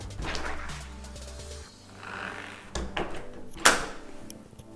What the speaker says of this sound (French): si on ouvre une porte